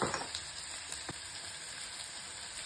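Onions frying in a pan toward golden brown for cashew chicken, giving a steady dense sizzle with a few faint pops and clicks, close and continuous.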